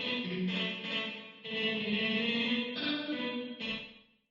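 A mix played through a room-type reverb set fully wet as an insert, giving washed-out, smeared sustained tones in several phrases that trail off into a decaying tail at the end.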